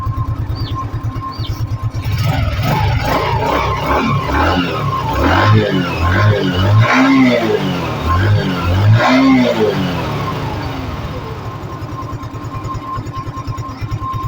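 A freshly repaired engine with a new piston and rings runs loud and close, its steady idle rising into several smooth revs and falling back, with no talking.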